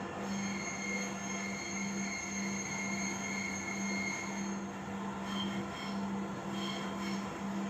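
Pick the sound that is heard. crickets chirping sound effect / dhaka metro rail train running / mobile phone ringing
dhaka metro rail train running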